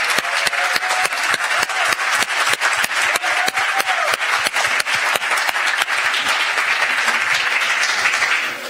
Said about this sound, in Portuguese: Por isso eu queria pedir uma salva de palmas para a Mídia Ninja